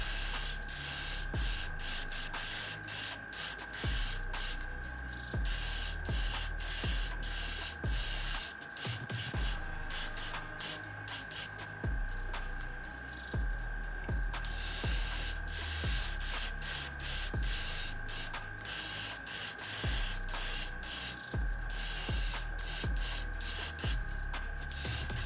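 An aerosol can sprays paint onto Tyranid miniatures of the Leviathan hive fleet, including a Screamer-Killer, giving a steady close hiss broken by short bursts and clicks of the nozzle, with no talking.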